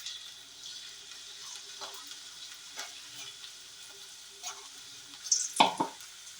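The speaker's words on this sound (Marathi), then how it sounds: "आता आपण हे टाकून घेणार तेलामध्ये. कडक तेल तापलेलं आहे" Okra (bhindi) frying in very hot oil, a steady soft sizzle throughout with occasional faint stirring clicks and a sharp louder splutter near the end, no talking.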